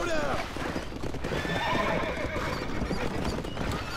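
A horse whinnies loudly amid clattering hoofbeats and busy game-like background noise from the video game Red Dead Redemption, with voices shouting over it.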